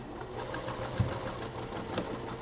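A sewing machine hums steadily at close range while backstitching a fabric pincushion project. Small clicks punctuate the motor run, with no talk over it.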